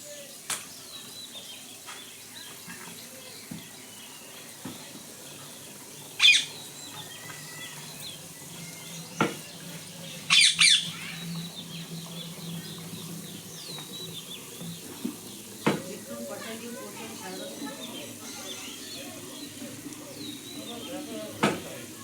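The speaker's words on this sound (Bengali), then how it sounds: "এই দেখুন এইভাবে আমি নেড়ে নেড়ে যত ভাজা হচ্ছে তত আরও ফুলছে" Gulab jamun balls made from whole wheat flour fry in hot oil while being stirred, giving a low, steady sizzle with a few sharp clinks and scrapes from the stirring spoon scattered throughout.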